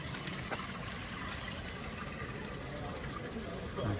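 Faint, steady rush of water pouring continuously, heard from a distance with a constant hiss and no clear voices.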